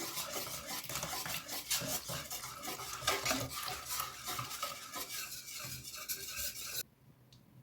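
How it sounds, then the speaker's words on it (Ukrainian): Broth mixture being stirred in a pot, with steady utensil scraping and clinking against the metal sides, close and continuous, then a brief quieter stretch at the end. "Вливаю відвар і акуратно, не спіша, все перемішую"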